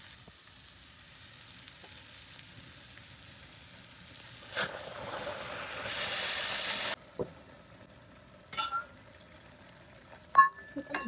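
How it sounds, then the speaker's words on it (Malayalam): Water poured into a pressure cooker of spiced pork stew cooking in a home kitchen: a rushing hiss of liquid meeting the hot pan, then stirring clatter and a few sharp metal knocks, fairly close and moderately loud. "മിക്സ് ചെയ്ത് നമുക്ക് കുറച്ച് വെള്ളം ചേർത്ത് കൊടുക്കണം."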